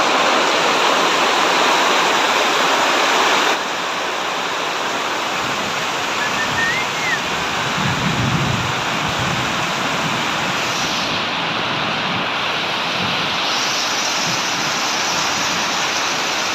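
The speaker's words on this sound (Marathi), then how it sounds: "कानात हेडफोन टाका आणि फक्त पावसाचा आवाज ऐका." Heavy monsoon rain pouring down in Sindhudurg, a dense, loud, continuous roar of water that stays steady throughout with no break and no voices.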